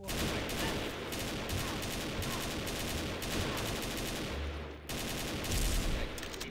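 Gunfire in an online shooting game with classic old-style guns rattles in dense, continuous bursts, loud and close, with a short break near the end before the shooting resumes.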